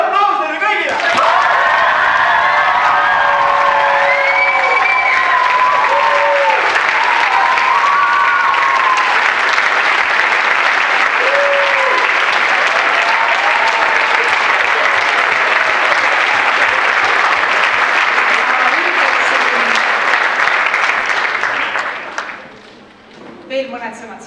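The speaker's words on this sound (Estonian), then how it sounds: "Suur aplaus teile kõigile!" A large audience at a Viimsi school performance bursts into sustained, loud applause that fills the hall for over twenty seconds, steady and thick with occasional cheers, before fading out at the end.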